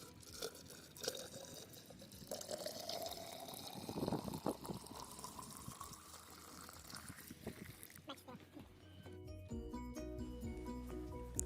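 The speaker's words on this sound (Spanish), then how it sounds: "con el balde de agua se volverá a llenar el tubo plástico" Water poured from a bucket into a plastic tube during a soil mechanics infiltration test, uneven splashing and trickling with drips, fairly faint, then a steadier filling sound toward the end.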